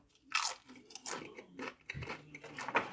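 Pringles paprika-flavoured potato chips crunched close to the mic, a series of sharp crisp bites and chewing crackles spread over a few seconds with no talking.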